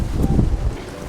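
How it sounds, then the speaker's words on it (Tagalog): Strong wind roars across an outdoor microphone in a brief, continuous low buffeting rumble with a hissy edge, loud and close, with no voices. "Lakas na hangin."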